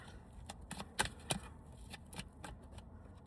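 Tarot cards are shuffled by hand, a quiet series of soft papery riffles and taps in irregular bursts, close and alone.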